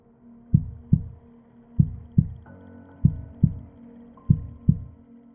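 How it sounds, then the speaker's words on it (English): A steady heartbeat thumps in paired beats, lub-dub, four pairs in a slow regular rhythm over a low hum, with no talking. "I could hear my heart beating underneath my t-shirt."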